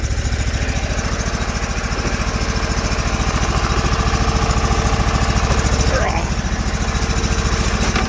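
A Sears Suburban snowblower's 20 HP Briggs V-twin engine runs close and loud with a steady, pulsing chug and a slight rise in pitch partway through, in snowy conditions.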